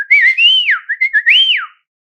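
A person whistles an imitation of a dolphin signature whistle, a loud close series of sliding, rising and falling pitched chirps lasting under two seconds before silence.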